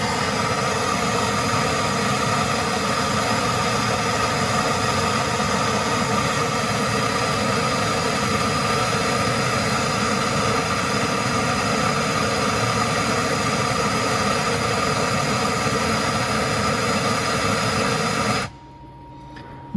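Austin-Healey Sprite barn-find engine running with oil-fouled spark plugs, a loud, steady rough drone with constant vibration that cuts off abruptly near the end.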